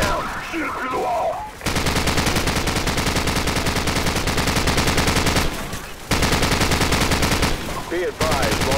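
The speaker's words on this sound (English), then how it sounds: "Jackson, use their machine gun. Cut him down." Sustained bursts of machine gun fire ring out in the video game Call of Duty 4 Modern Warfare, loud and rapid with brief pauses, and game dialogue in the background.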